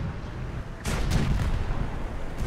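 A KV-1 M1942 tank cannon fires in War Thunder, one sudden loud blast with a short rumbling tail over steady engine and battle noise.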